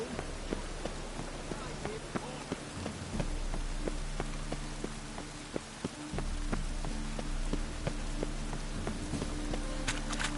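Steady rain pours in the open world of the video game Witcher 3, a dense continuous hiss with scattered sharp drop ticks, joined partway through by a low droning rumble and faint background voices.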